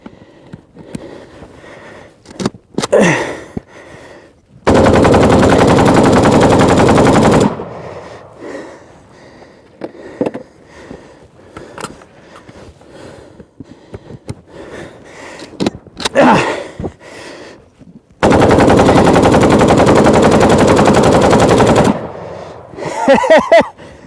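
A Russian AK-47 Kalashnikov rifle fires two long, sustained, very loud bursts of roughly three seconds each. Quieter handling noises and breaths fill the gaps between bursts.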